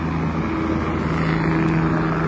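A helicopter flying overhead near Bukoba, giving a constant loud engine and rotor drone with steady low hum, unbroken throughout and with no voices.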